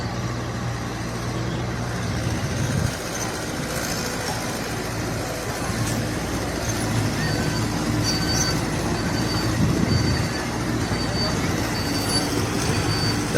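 A train at Pangsha railway station produces a continuous low rumble of rolling wagons and wheels, steady and fairly loud throughout, with faint background voices.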